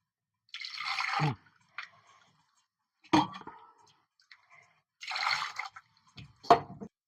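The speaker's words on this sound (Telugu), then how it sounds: "ఇలా నీళ్ళు పోసుకుందాం." Water is poured from a small vessel into a cooking pot while making raw banana pulusu, in a few short splashing bursts separated by silence, close and quiet, without any talk.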